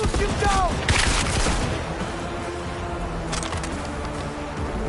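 Gunfire in the Cyberpunk video game, with a burst of loud shots near the start, a fainter burst later on and game effects in between.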